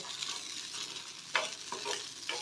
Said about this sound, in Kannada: ಇದು ನೀಟಾಗಿ ಮಿಕ್ಸ್ ಮಾಡ್ಕೋಬೇಕು